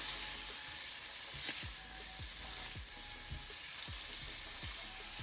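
Chicken seasoned with black pepper and salt frying on high flame crackles in a continuous loud sizzle, with repeated scraping strokes as it is stirred and mixed.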